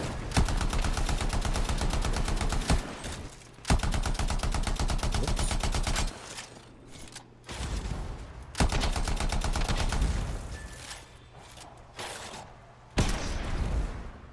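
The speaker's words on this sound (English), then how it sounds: "Hey, somebody's shooting at you." Sustained automatic gunfire in the video game Anthem, long rapid strings of shots in loud bursts separated by short pauses, close and continuous with a low hum underneath.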